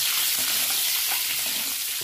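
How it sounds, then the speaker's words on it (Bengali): Eggs seasoned with salt and turmeric fry in oil, giving a short burst of bright, steady sizzling with faint stirring taps underneath and no voices. "লবণ দিয়ে দেবো অল্প, হলুদ দিয়ে দেবো, খুব ভালো করে ভেজে নেবো।"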